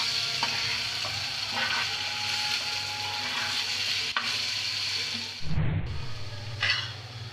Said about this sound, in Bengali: এখন ভালো মতো আলু আর ডিমটা মিক্স করে নেব।